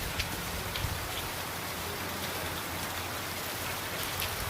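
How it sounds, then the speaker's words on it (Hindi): Steady rain falls, a dense hiss of drops hitting surfaces, constant and fairly soft with no voices. "ये जो बारिश की बूंदें हैं ना"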